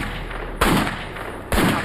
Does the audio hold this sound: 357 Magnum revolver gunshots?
yes